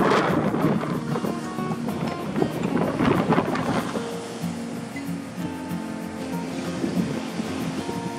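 Strong offshore wind roars and buffets the microphone alongside crashing Sea of Japan surf on a spring evening, a constant rushing noise with gusty bursts and no voices.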